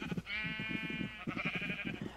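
Minecraft sheep bleat in two quick, nasal, wavering calls, clear and close with no talking.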